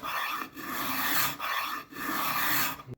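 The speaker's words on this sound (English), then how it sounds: "if you've got finish on a bigger surface area, then you can simply just use the scraper" Card scraper drawn across a wooden surface, taking fine shavings, in three or four close, loud rasping strokes separated by short pauses, with no talk.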